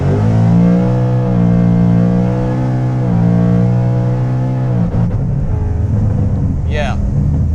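A 2018 Ford Mustang GT fitted with a Whipple supercharger pulls hard in a loud, sustained engine roar with rising pitch and gear shifts, then eases off near the end.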